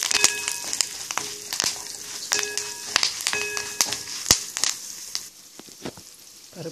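Toor dal frying in oil with buttermilk chillies and curry leaves, a loud continuous close sizzle broken by repeated sharp pops and crackles, with stirring and no talk.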